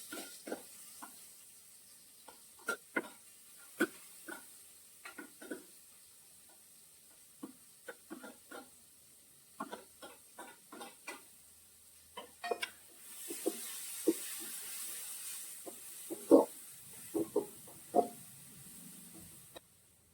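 Tomatoes and onions sautéing in a pan for a chicken dish: a soft sizzle that swells midway, broken by frequent close spoon scrapes and clinks, with no talking.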